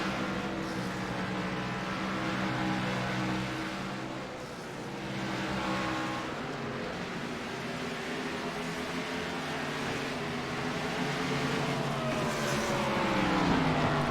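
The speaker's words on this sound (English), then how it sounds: "getting into the part of the run here where the cars really start to get tight coming off the corner" Stock cars racing at Richmond in the SOMO Series, a continuous loud roar of several engines with pitch rising and falling as cars pass and come off the corner, swelling again near the end, with no voices.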